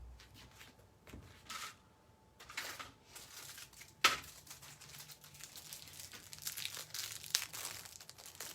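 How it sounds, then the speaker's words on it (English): Tape crinkles and tears in short bursts while an earring blank is taped down onto a design, with quiet handling rustles between, close and fairly soft. "tape it down"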